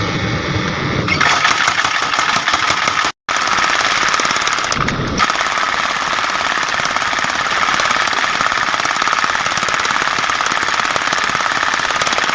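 Rapid, relentless mechanical hammering as a power hammer forges a ship's engine valve head, loud and close, continuing almost without pause apart from one brief break.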